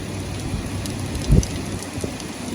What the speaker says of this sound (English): The rain is blowing sideways. It's not even raining down, it's blowing sideways.